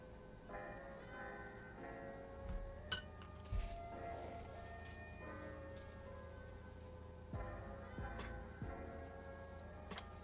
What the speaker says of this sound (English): I need to wash the glass.